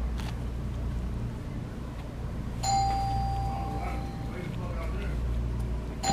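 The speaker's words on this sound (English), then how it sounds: "The doorbell goes off?" A doorbell chime rings out partway through, a clear ringing tone with a lingering tail over a steady low background rumble, in a scary ghost-footage setting.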